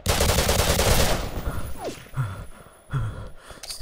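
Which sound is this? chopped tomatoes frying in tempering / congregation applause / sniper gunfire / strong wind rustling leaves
sniper gunfire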